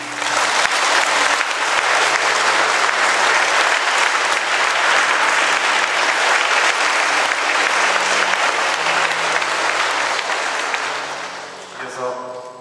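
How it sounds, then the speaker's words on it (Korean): Warm applause fills a church during a Mass for a deacon's ordination, a long and loud wash of many hands clapping that holds steady and then fades as a voice begins to speak. "뜨거운 박수."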